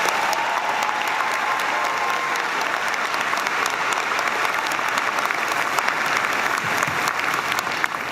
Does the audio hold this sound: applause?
yes